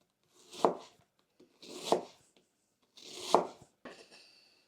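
A knife chops through red onion on a board in four separate bursts, each a crisp crunchy cut followed by a short pause, close and clear.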